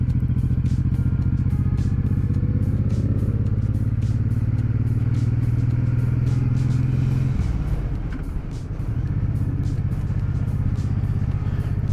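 A big Suzuki Boulevard M109 cruiser motorcycle rides along the coast on the way to the beach, its engine rumbling loudly and steadily with wind noise. Partway through it eases off and drops to a lower gear note.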